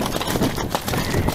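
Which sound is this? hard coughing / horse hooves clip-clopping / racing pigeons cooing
horse hooves clip-clopping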